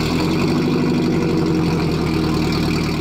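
Car nicknamed Zebra idling after a spark plug change, with the engine warmed to 80 degrees Celsius; a loud, steady low rumble with an even, regular firing pulse and no voices.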